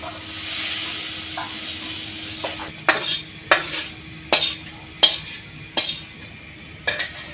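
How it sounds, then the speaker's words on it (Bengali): Bitter gourd fries in a pan on a village stove with a soft background sizzle, punctuated by a series of sharp metallic scrapes and taps of a spoon against the pan at irregular intervals. "আর এই পাশে যে করলা ভাজি দিচ্ছি, একসাথে দিচ্ছি, করলা ভাজি এখনো হয়ই নাই।"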